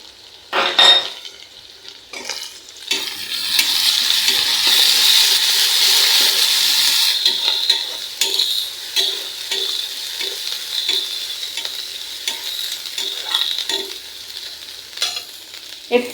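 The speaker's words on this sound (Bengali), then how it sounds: "তেলের ভিতরে দিয়ে দিয়েছি ঝাল পেঁয়াজ এবং চিংড়ি মাছ।" Chili, onion and prawns fry in hot oil in a pan and are stirred, making a steady, loud sizzle with intermittent spatula scrapes and taps close up, and no talking.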